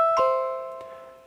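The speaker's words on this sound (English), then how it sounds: "we heard the doorbell sound, and it was a bit louder than it was before" A two-note ding-dong doorbell chime from a Home Assistant notification on a phone, struck twice in quick succession and then left to ring out with a long, clear decay, loud and close with no talk.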